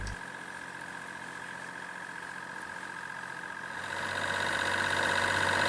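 Inboard engine of a sailing yacht motoring down a windless Sound of Mull, a steady mid-pitched drone with a faint hum, growing somewhat louder and rougher toward the end, with no voices.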